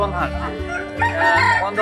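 A rooster crows loudly and close by at a busy village poultry market in Bangladesh where ducks, chickens and pigeons are sold, one drawn-out call with other fowl clucking around it.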